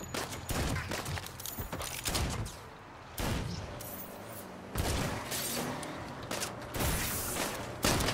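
Heavy gunfire bursts in the video game Saints Row, several loud volleys of shots separated by short gaps, close and dominant with no voices over them.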